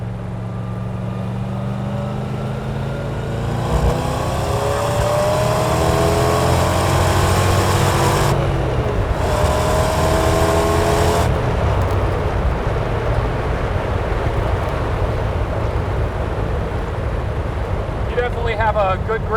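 A 1966 Chevrolet Corvette Stingray with a 427 big-block V8 pulls hard on the road, its loud engine note climbing steadily in pitch through the gears, then dropping at a shift. Heavy wind noise runs underneath throughout.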